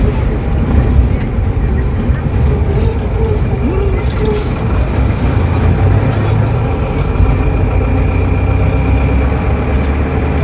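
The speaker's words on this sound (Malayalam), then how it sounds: "ആദ്യമായിട്ട് പോകുന്ന ഒരു ബസ്സാണിത്" A bus idles on a rural route in Malappuram, its steady engine rumble running without a break under a voice.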